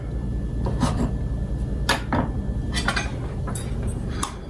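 A knife saws through a loaf of homemade sourdough bread in a kitchen, with several short crisp scraping strokes set against a steady background hum.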